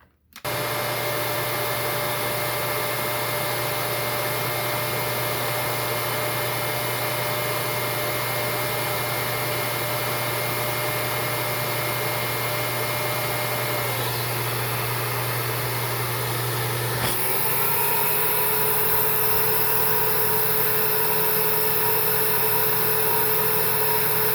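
A Windsor Versamatic upright vacuum cleaner runs for an airflow test, a loud continuous motor whine and rushing air that shifts in pitch partway through as the airflow changes, with no talk.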